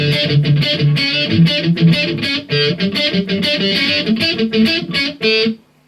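A distorted electric guitar plays a choppy riff, tight palm-muted chugs alternating with ringing chords, loud and rhythmic before stopping short.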